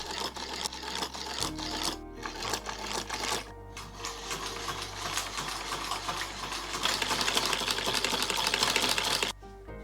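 A sewing machine stitches strips of green and yellow wool into double piping. Its needle runs in fast, steady bursts with short pauses between them, then speeds up near the end, heard close up.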